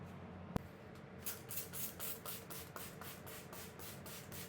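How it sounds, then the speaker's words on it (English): Water is misted in a rapid series of short spray bursts onto a walnut butcher block ahead of final sanding, each hiss close and crisp, after a sharp click and a brief pause. "spraying the material down with a light coat of water before the final sand helps raise the grain"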